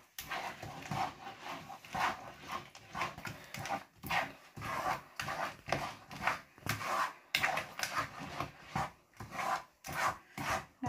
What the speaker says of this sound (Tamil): இப்போ வந்து கைவிடாமலே இப்படியே கிண்டி கொண்டிருப்போம்